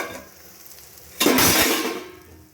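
Sliced bitter gourd stirred in a pan over low heat, a quiet scraping that bursts into a loud, close sizzle and stirring rush about halfway through, then slowly settles back down.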